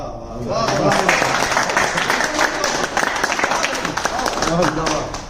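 Audience applause at a Hindi kavi sammelan poetry recital at Hotel Ajit's New Year 2026 celebration, a dense sustained wash of clapping from a crowd, steady and close throughout, with voices mixed in underneath.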